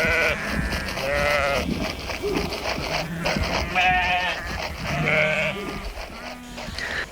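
A flock of sheep bleats repeatedly over a steady outdoor background, several overlapping calls rising and falling at moderate distance.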